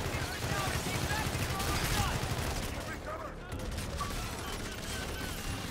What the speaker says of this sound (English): Using our Aedis guns to shoot down the fleet.